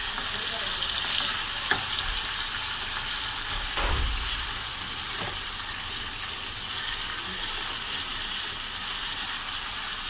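Chicken and onions fry steadily in a pan, a continuous close sizzle with a few scraping stirs and soft clunks along the way, no voices.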